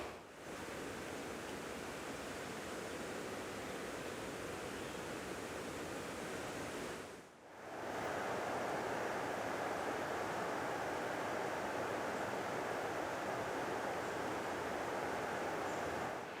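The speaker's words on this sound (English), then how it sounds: "you can probably hear the River Frome too, which is just below the undergrowth there" The River Frome flows just below the undergrowth by the old Freshford Mill. It makes a steady, even rushing hiss of moderate level that drops out briefly partway through before resuming, with no voices.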